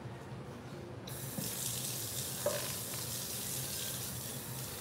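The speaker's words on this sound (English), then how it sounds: "But let me get the water in." Tap water runs steadily into a cooking pot for birria tacos, a constant broad rush that begins abruptly after a quiet first second and stays close and loud to the end.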